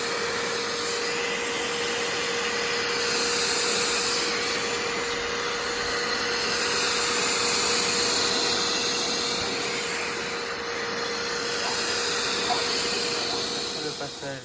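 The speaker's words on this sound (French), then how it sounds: "on a l'aspirateur à vapeur et on va venir aspirer tout ça" Steam vacuum cleaner sucking dirt from car floor mats, a steady loud whirring hiss with a constant motor tone running throughout, lightly swelling as the nozzle passes.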